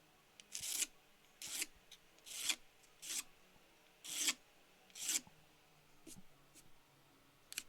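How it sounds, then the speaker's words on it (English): A wooden pyrography paddle board being scraped in short, dry rasping strokes, about nine separate passes with brief pauses between them, close and fairly quiet. "Okay, I'm gonna try scraping again."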